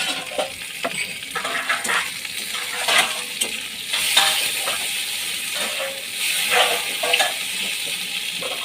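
Tomatoes and prawns fry in a pan for a Bengali aubergine-mustard dish, giving a steady broad sizzle with repeated stirring scrapes and clicks throughout, fairly close and with no talk over it.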